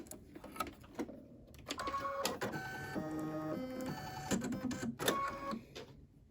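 Embroidery sewing machine stitching a snowman quilt block after being rethreaded, running in a quiet mechanical whir with shifting tones and brief stops between stitch runs.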